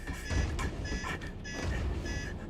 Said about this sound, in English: Okay, there's an alarm going off.